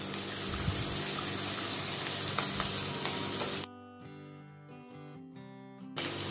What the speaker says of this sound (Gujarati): અડધી ચમચી જીરું નાખશું, મીઠા લીમડાના પાન નાખશું, ચપટી હિંગ અને લીલા મરચાં નાખશું, અડધો બાઉલ કાંદા નાખશું